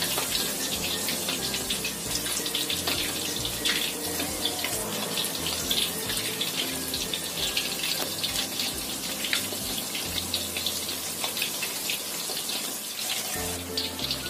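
A pan of shrimp crisping in hot oil keeps up a steady, close-up sizzle, a dense hiss sprinkled with small pops and spatters that stays loud and even from start to finish.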